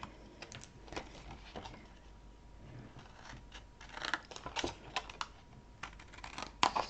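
Scissors snip into paper while an Impossible Box craft is being made, a series of close, crisp, irregular cuts and rustles, louder toward the end.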